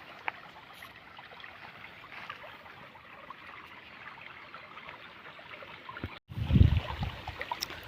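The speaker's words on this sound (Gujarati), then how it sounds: "તો જોઈ શકો છો પાણી આ રીતે હાલ્યું જાય છે, તમે અવાજ સાંભળતા હશો।" Water runs through stone irrigation channels into a sorghum field on a hillside farm, a faint, steady outdoor trickle. Near the end there is a brief louder rush.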